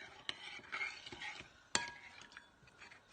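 A spoon stirs tomato paste into a glass of water, clinking sharply against the glass twice and scraping softly in between, close and fairly quiet with no voices.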